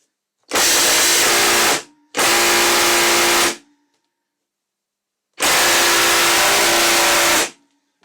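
A Festool impact driver drives a torx screw into ash wood in three loud, close bursts of harsh rattling hammering, each lasting one to two seconds, separated by short silences.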